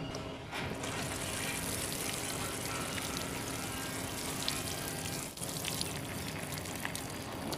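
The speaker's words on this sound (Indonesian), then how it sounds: "Ini tinggal kita siram ini" Steady broadband splashing and pattering of water poured onto ordinary soil in a bonsai pot, continuous and close, with a brief dip near the end.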